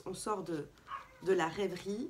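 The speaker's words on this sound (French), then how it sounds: "j'ai mon chien qui aboie" A dog barks in short yips and bow-wows, several quick barks heard fairly close, mixed with someone speaking French over them.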